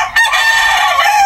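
An imported Leiper Hatch gamefowl rooster crows once, loud and close, a single sustained harsh call heard alone.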